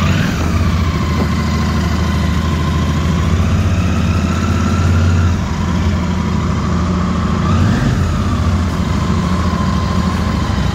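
A Royal Enfield GT 650 twin-cylinder motorcycle engine fires up and settles into a steady, smooth idle, close and continuous, with no talking over it.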